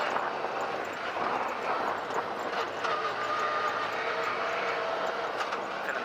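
A Yamaha YXZ1000R SS side-by-side drives over uneven whoops, its engine a steady, rough drone under heavy rushing wind noise, with bumps and rattles along the way.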